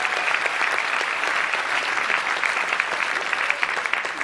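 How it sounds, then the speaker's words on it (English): Steady, dense applause from a live stand-up comedy audience, many hands clapping at an even level throughout with no talk over it. "Round of applause if you go to the Christmas Eve service"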